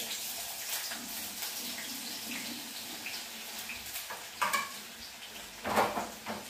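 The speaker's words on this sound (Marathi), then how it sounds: "हे बघा लसूण टाकते मी इथे." Garlic drops into a hot pan on the stove and sizzles, a steady hissing fry with a few louder sputters near the end and no talking.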